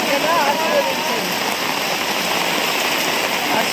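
Steady rain pours down outdoors during a door-to-door political visit, giving a dense, even hiss with no pauses.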